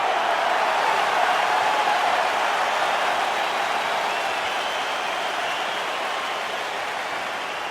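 Steady roar of a capacity arena crowd before a UFC lightweight championship fight, a dense continuous wash of cheering and voices holding at a constant level throughout, with no single voice standing out.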